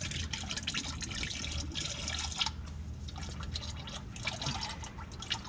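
Engine oil drains from the oil pan of a 2019 Mustang GT, a steady liquid splatter and dripping stream pouring into a catch pan nearby, continuous with slight surges.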